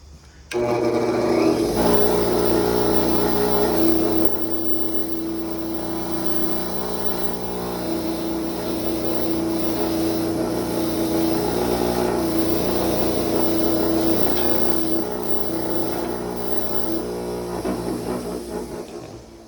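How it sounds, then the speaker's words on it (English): A bench wire wheel scrubs rust and pitting off a worn engine valve, giving a steady, close whirring grind that holds for nearly twenty seconds with no speech. "Go ahead and clean it up on the wire wheel."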